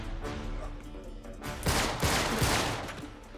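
Gunfire in Uncharted 3 rattles in rapid bursts, with dense overlapping shots that grow louder midway before fading slightly, set against a steady background rumble.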